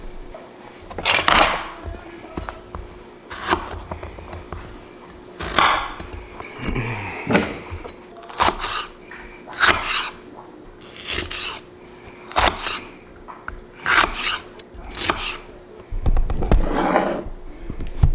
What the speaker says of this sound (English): Now I'm gonna slice jalapenos into chunks.